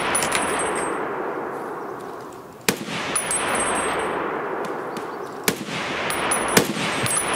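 Sharp gunshots ring out in Escape From Tarkov, a few isolated cracks spaced seconds apart over a steady outdoor ambient wash, loud and fairly close.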